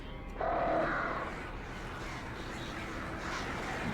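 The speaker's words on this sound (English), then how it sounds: "These damn birds, man." Crows caw in the video game Alan Wake, a short call near the start over a steady, noisy game ambience, with no talking.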